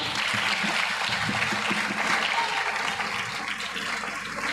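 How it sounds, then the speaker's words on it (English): Steady, dense applause from a large crowd giving a standing ovation at a primary school graduation ceremony, loud and continuous throughout with no pauses. "Give him a round of applause for me"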